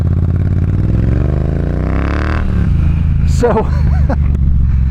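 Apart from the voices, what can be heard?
Triumph Bonneville T120 motorcycle engine with X-pipe and shorty pipes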